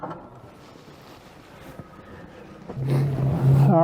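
A boat engine on Lake Nipigon starts up and settles into a steady low hum after a quiet stretch of wind and water noise, growing louder and closer toward the end.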